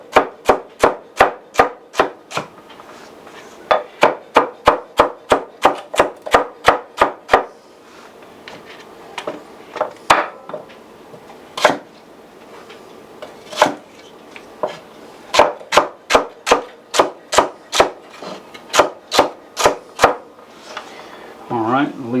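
Knife chopping celery on a wooden cutting board, a long run of crisp, close, evenly paced chops in quick bursts with brief pauses between groups.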